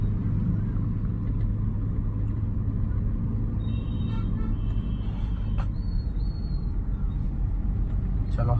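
Car engine humming low and steady while a learner drives slowly on a narrow road during a driving lesson, with constant road rumble throughout and an instructor speaking over it.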